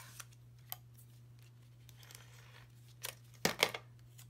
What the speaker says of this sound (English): Here comes our new tape.